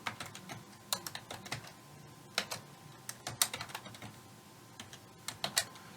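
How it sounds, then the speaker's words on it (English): Typing on a computer keyboard while configuring a network switch host name, with irregular bursts of crisp key clicks alternating with brief pauses, close and moderately loud with no talk. "Now you got to type this in correctly"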